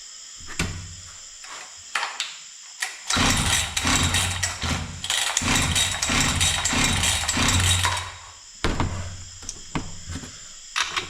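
An old Husqvarna 61 chainsaw under repair is pull-started: a few rattling cord pulls, then about five seconds of loud, rough engine noise that cuts out, followed by more pull attempts. The saw is close, with no talking.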